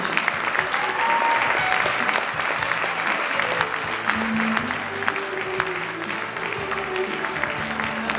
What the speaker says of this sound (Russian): Аплодируем нашим юным композиторам.